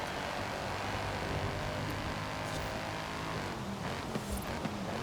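Racing car engine in Forza Horizon during a Benz and Curve seasonal championship race, a steady loud drone that holds evenly throughout, with a few faint higher tones toward the end.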